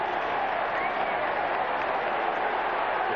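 An AFL football crowd at a 1997 Fremantle versus Western Bulldogs match roars continuously, a dense and steady wall of calls demanding a 50-metre penalty.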